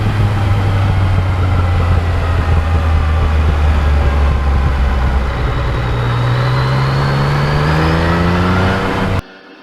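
A 2020 Yamaha MT-09 fitted with carbon fiber parts, its engine droning loud and steady while riding, pitch rising as it accelerates before cutting off abruptly at the end, with wind rush underneath.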